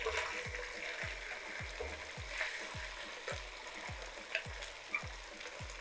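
Onions fry in butter in a pan with a soft steady sizzle, while a regular series of low rhythmic thuds, like stirring or tapping, repeats about every half second, with occasional sharper clicks.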